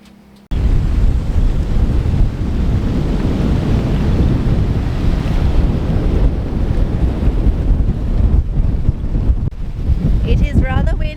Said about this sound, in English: It is rather windy, but we are anchored with shelter on pretty much all sides